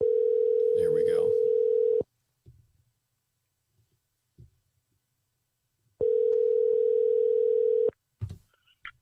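A telephone dial tone sounds while a call goes out to Pastor Lee, two steady two-second tone bursts separated by a long quiet gap, with faint clicks and small noises in between.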